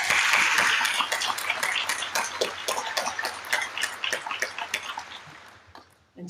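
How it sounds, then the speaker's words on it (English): Audience applause at a business energy talk: a dense wash of clapping that gradually thins into scattered individual claps before stopping near the end. "Let's give Second Chief Beaver another round of applause."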